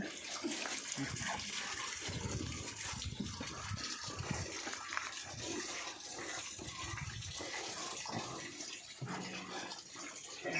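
Water gushes and splashes while a pig pen is washed out, a steady rushing flow with irregular splatters close by and occasional faint voice sounds underneath.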